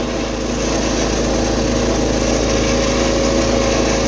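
A small engine on a 210 holding a steady higher throttle, a loud, constant, close drone with an even buzzing tone and no change in pace, no talking.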